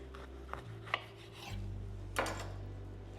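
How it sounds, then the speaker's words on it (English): An orange half is twisted and rubbed on a reamer, giving soft rasping, squishing rubs with a few brief scrapes, close and quiet over a low steady hum. "This is called a reamer, and I'm just going to use it to get as much orange juice out of this as I can"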